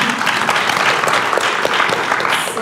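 An audience in a ballroom applauds continuously, dense, even clapping from many hands held at a steady loud level.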